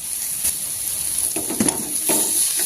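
Onion, green chilli, coriander and curry leaves sautéing in a pan for a brinjal chutney, a steady sizzle with occasional stirring scrapes and soft clinks, close and continuous without talk.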